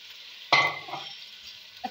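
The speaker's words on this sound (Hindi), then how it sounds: "अच्छा से इसे भून लेंगे" Chicken with ginger garlic paste hitting hot oil in a pan for biryani, a sudden loud sizzle that then fades to a steady hiss with a small clink near the end, close and without talk.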